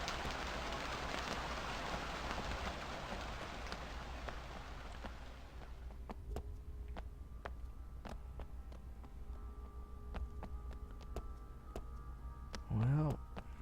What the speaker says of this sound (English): I hope you guys can hear the rain.